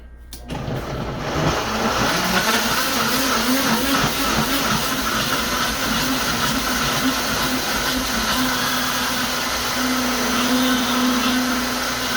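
A blender whirs through a spicy orange sauce made with avocado, starting abruptly and then running as a loud, steady motor roar with a constant grinding hiss for the full stretch.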